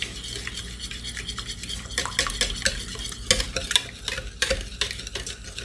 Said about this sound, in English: So using my whisk, I'm just going to mix that together until it's all well combined.